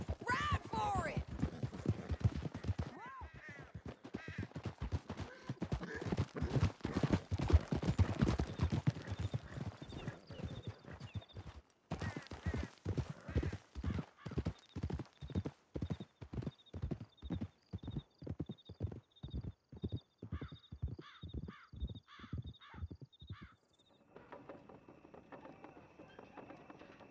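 Horses gallop in Red Dead Redemption 2: a long run of loud, rapid clip-clop hoofbeats with occasional whinnies, then the hooves slow to a steadier trot near the end, with a voice shouting over the ride.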